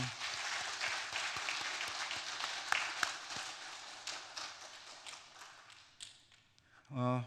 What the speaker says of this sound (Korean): 우리 목사님께 한번 또 감사의 박수를 드리겠습니다.